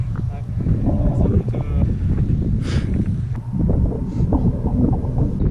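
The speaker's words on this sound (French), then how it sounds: "dès que tu changes de versant, tu te ramasses le vent" Wind gusts across a mountain slope near the summit of Mont Athos, a constant loud rumbling buffet against the microphone, with a person talking over it throughout.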